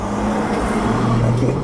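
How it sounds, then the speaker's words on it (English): A car drives by on a Denver city street along a bus route, a steady engine hum that swells slightly as it nears, fairly loud and with no one talking. "There's another nice car."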